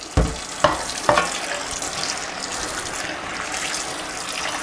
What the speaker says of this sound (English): I'm gonna go ahead and just rinse this out.